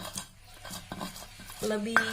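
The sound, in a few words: pounding spices in a stone mortar (cobek)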